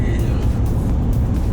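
Inside a Ram 2500 with the 6.4L Hemi towing a 7,500 lb travel trailer, the engine holds a steady low drone at about 2,500 RPM and 66 mph in fourth gear, with constant road rumble.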